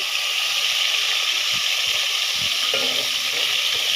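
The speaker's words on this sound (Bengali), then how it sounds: "মাছগুলিকে আমি ভেজে নিচ্ছি" Sea fish sizzling steadily in hot oil, a loud, continuous frying hiss with a few soft clinks and stirring sounds.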